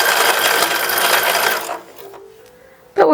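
A sewing machine stitches a 1910s-style infant dress in a dense, steady whirring run for about a second and a half, then drops to a quiet hum before a short loud burst at the end.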